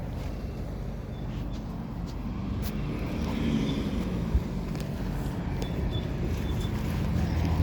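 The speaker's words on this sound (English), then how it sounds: "we're going on a bus" Steady low rumble of a bus engine and road noise from inside the moving vehicle, a continuous drone with occasional faint clicks and no talking.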